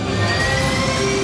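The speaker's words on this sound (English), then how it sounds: "It's an L39 Albatross, fastest ride in the country, capable of 900 kilometres an hour." An L-39 Albatross jet engine roars loud and steady, a close, continuous whine and rumble inside the fighter-jet cockpit.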